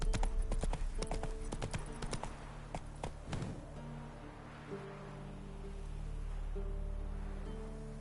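Hooves of the horse Roach clip-clop in a quick, steady run in the Witcher 3 video game, loud and close for the first few seconds, then easing off into a soft, low rushing ambience.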